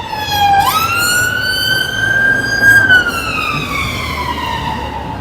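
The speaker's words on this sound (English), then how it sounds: "you've got the police, you've got the fire brigade, you've got the ambulance, all busy whizzing through" Emergency vehicle siren on a busy London street, its wailing tone sweeping up and holding steady, loud and close, then fading as it passes over a constant rumble of traffic.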